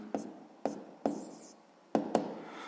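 Pen writing out a sixth-grade math solution on paper, five or six short scratchy strokes at irregular intervals, close and quiet.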